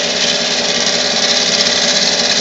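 A gouge roughing down a wood blank on a spinning lathe gives a steady, loud broadband cutting hiss that runs unbroken, with no talking.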